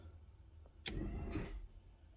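A Mazda RX-7 pop-up headlamp motor raises the headlight: a sharp click, then about a second of close mechanical whirring that stops abruptly, with no talking.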